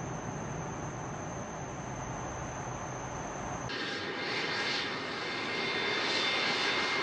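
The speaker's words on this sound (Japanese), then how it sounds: "モスクワから飛行機で2時間半、" A steady, loud cabin drone comes from an airplane's engines during a flight from Moscow to Yekaterinburg, broadband and continuous throughout with no speech.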